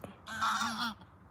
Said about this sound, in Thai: ห่าน ห่านธรรมชาติ เป็ดธรรมชาติ